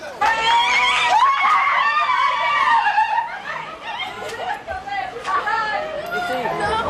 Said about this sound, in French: La file d'attente, la bousculade et les cris de joie sont les premiers signes qui annoncent un concert de rock'n'roll